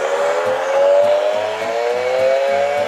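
A loud, steady engine drone from a toy V8 engine dispenser rises slightly in pitch, with a regular pulsing rhythm underneath, like a small motor imitating a revving engine.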